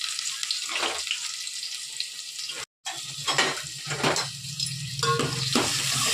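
Garlic, cumin and chopped onion frying in a pan, a bright crackling sizzle that flares as ingredients drop in and stirring scrapes through, briefly cut off midway, with running tap water nearby.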